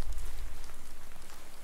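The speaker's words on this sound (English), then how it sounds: "that raindrop on the camera" In the Call of Cthulhu video game, steady rain falls with a continuous hiss of drops on surfaces and a low rumbling pulse underneath, constant and fairly close throughout.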